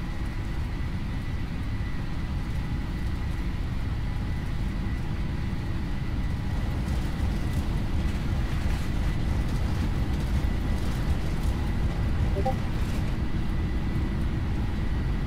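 A Boeing 737-800 in the PMDG flight simulator rolls down the runway for takeoff, its engines producing a steady, loud, broadband roar that holds even and continuous, with no talk over it.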